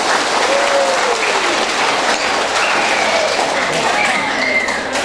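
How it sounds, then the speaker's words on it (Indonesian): A crowd applauds loudly and steadily at a parish youth gathering quiz, dense clapping sustained throughout, with faint voices and cheers mixed in. "kita beri tepuk tangan untuk mereka"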